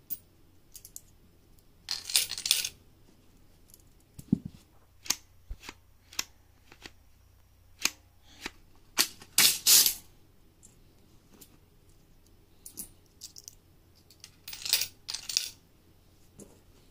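Quarters dropped one by one onto a rifle bolt mechanism, giving sharp metallic clinks and short rattles scattered irregularly, some in quick clusters, close and fairly loud against a quiet background.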